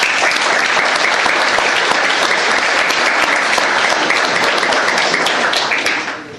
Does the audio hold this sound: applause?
yes